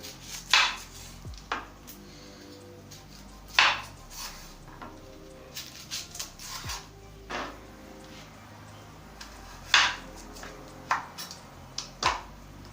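Knife chopping onions into cubes on a board, irregular sharp thuds spaced a second or two apart, close by and otherwise quiet with a faint background hum.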